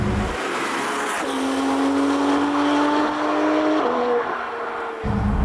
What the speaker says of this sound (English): Very sort of traditional Porsche howl,